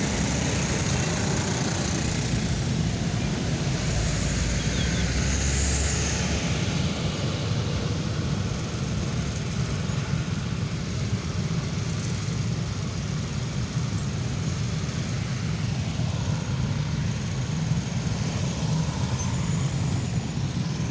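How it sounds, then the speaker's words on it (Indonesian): Steady engine drone from passing motorcycles and cars at the Simpang Macan Lindungan intersection on Jalan Soekarno Hatta, Palembang, fills the air throughout, a continuous busy road rumble without speech. "Mungkin arus kendaraan sekitar 1000 motor yang masuk dan yang keluar."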